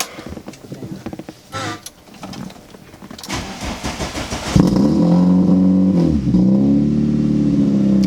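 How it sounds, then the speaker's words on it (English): A Volkswagen MK3 engine cold start: it cranks with a few irregular mechanical rattles, then catches and settles into a loud, steady idle with a slight dip in revs. "just a good old cold start"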